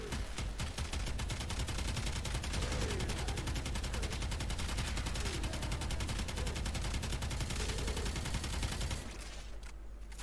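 Twin Kohmak weapons in a video game spin up and fire a dense, sustained rapid burst of shots that runs loud and continuous for about nine seconds, then cuts off into quieter ambience.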